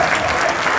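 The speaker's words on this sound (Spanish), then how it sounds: "Fuerte el aplauso para ese super premio" At a live contest show, an audience claps loudly in a brief, dense burst that stays even throughout.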